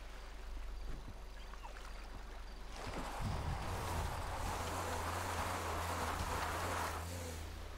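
A boat engine in Grand Theft Auto hums steadily across water, with its churning and wash rising louder about halfway through, and no one speaking.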